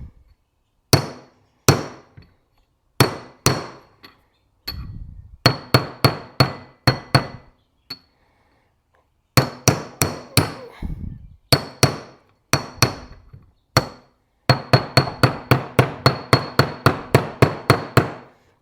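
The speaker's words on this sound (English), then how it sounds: "Let's hope this just kind of taps in there. Probably should have got a hammer." A hammer taps a bushing into a mini bike cylinder in sharp, ringing metal strikes, coming in irregular bursts of quick blows separated by brief pauses.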